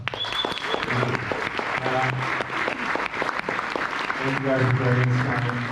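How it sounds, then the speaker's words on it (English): An audience applauds the panelists at an NFT community panel event with moderate clapping, while a voice speaks over the applause. "Let's give the panelists a round of applause."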